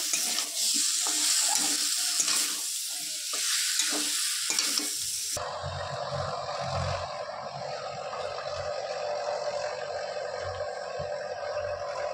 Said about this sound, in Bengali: আলুটা দিয়ে আমি আস্তে আস্তে ভালো করে কষিয়ে নেব।